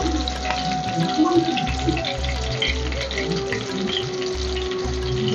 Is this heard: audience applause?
no